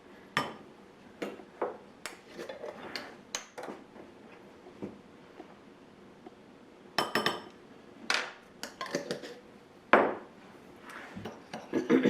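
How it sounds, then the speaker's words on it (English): A spoon clinks against a bowl while brown sugar and cinnamon are mixed for biscuit cinnamon rolls, with scattered sharp taps in irregular bursts and quiet gaps between. "in our bowl we're going to mix together 2 tablespoons of brown sugar and 1 teaspoon of cinnamon"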